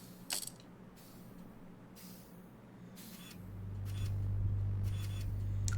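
Wrench work in the video game Starstruck Vagabond gives several short, crisp ratcheting mechanical bursts spaced over a few seconds. A low electronic hum runs underneath and swells louder toward the end.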